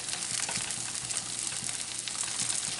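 A low-carb skillet pizza frying in a pan on the stovetop while its cheese topping melts, giving a steady, close, dense sizzle with faint crackles throughout.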